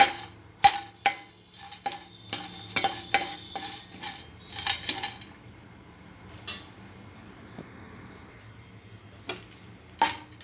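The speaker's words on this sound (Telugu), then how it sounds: "బిర్యానీ ఆకు లవంగాలు యాలకులు తీసుకున్నానండి తీసుకొని వీటిని కూడా వేయించుకోవాలి" Bay leaves, cloves and cardamom are fried in a pan for mutton masala, stirred with a metal spoon that clinks and scrapes sharply against the pan in quick bursts, with quieter gaps between.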